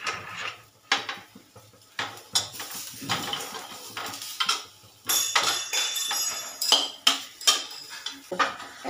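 Fried chicken balls lifted from a pan into a bowl, with a run of sharp metal utensil clinks and scrapes against cookware, irregular and close, separated by brief quiet gaps.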